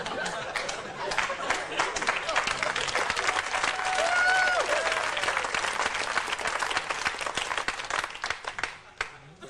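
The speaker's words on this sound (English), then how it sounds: "You clapped too long." Sustained comedy-club audience applause with scattered cheers and chatter fills the whole stretch, dense and loud, tapering slightly near the end.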